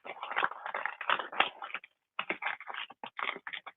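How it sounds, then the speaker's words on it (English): Bubble wrap folded over a shampoo bottle crinkles and rustles close up in quick bursts of crackly plastic handling, with a short pause midway before the crackling resumes. "I would fold the bubble over."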